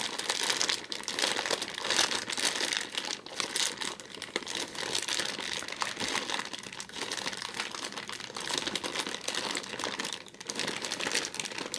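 A thick plastic bag holding dominoes crinkles and rustles steadily as it is handled and pulled open up close, a continuous dense crackling with no speech.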